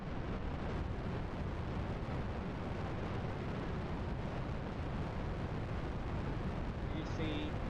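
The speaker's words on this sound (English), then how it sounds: "What a sight to see of this rocket lifting off." Skylon Eagle rocket lifting off, a dense, steady broadband roar of engine thrust filling the whole clip with no pauses, loud and rumbling with a faint voice briefly over it.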